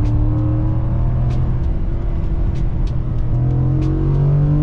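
A Ford F-150's 5.0-litre V8 engine revs and pulls under throttle, pitch rising steadily with a loud, throaty rumble and a few sharp clicks.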